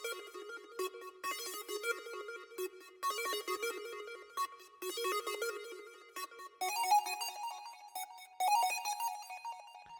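A bright synth lead playing the 'Love It When It Rains' preset from Benji Cole's pack, carrying a repeating plucky melody with short stabbed notes that shifts higher near the end, alone with no talk, in a pluggnB beat.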